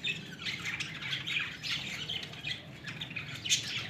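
Pet bird squawking near its chicks, repeated harsh, fairly faint squawks and chirps in quick irregular bursts over a steady background noise, with no talk.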